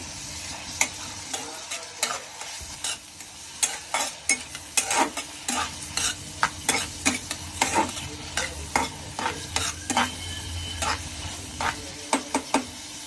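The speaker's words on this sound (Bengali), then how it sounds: "এবার এগুলো নাড়াচাড়া করি যাতে ভাজা ভাজা হয়।" A spatula repeatedly scrapes and taps a pan while Malabar spinach fries in it. The stirring strokes come in an irregular rhythm over a soft background sizzle. They sound close and clear, with no talk.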